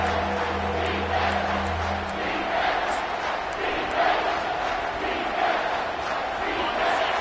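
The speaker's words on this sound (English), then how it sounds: "Here comes this home crowd as the defense tries to get off the field on 3rd down." A home crowd at a football game cheers and roars continuously as the defense faces third down, a dense, loud wash of voices with a low hum underneath early on.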